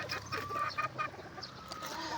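Boston gamefowl rooster clucking nearby in a backyard breeding pen, a few short, quiet clucks over a soft background.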